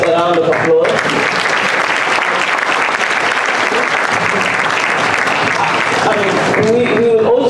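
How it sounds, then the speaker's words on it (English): Loud, sustained applause from a conference audience thanking the panelists at a TAF Africa Global event, dense clapping filling the room from start to finish with a brief dip near the beginning. "And I please give the panelists a round of applause."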